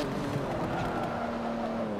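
Race car in Forza Motorsport 7 braking hard, a steady loud engine drone with tire noise carrying through the whole stretch, no voices.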